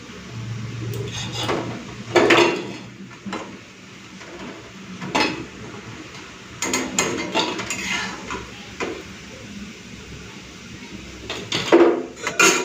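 Fried red lentil pakoras lifted out of a pan of hot oil, with several sharp metal scrapes and clinks of a utensil against the pan over a low sizzle, close and intermittent, no talking.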